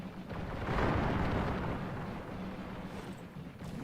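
Artillery batteries and musket volleys fire in a Thirty Years' War battle game, a dense rumbling barrage of overlapping booms that swells early and rolls on continuously before tapering.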